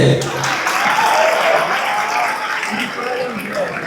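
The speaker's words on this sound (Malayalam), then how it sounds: "എല്ലാരും കൈയടിച്ച്" College audience applauding at a film promotion event on a stage, a broad steady wash of clapping from a large crowd, sustained and loud with faint voices mixed in.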